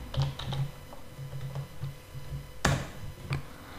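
Typing on a computer keyboard into a Python shell, a short run of soft, close key taps with one sharper click near the end.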